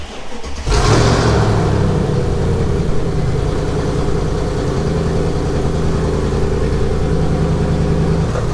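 A collector's car turns over and starts up with a sudden loud burst of exhaust on a cold start, then holds a deep, rumbling, booming idle close by.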